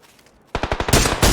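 Loud rapid bursts of automatic gunfire ring out in an online team shooter game, a quick string of close shots followed by a denser, harsher volley.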